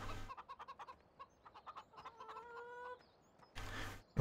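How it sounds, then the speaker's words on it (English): Chickens clucking in the farming video game Gold Crest Valley, a run of short repeated clucks and squawks at moderate volume, with a louder burst of noise near the end and no talk. "Here's our chickens."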